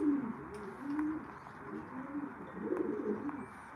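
Show pigeons coo in a pigeon loft, with several low, rolling coos repeating close by over faint room noise.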